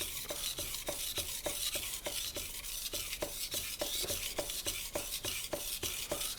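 A kitchen knife slides back and forth on a wet whetstone in even, rapid strokes, each a gritty scraping rasp, repeating about three times a second at close range with no voices.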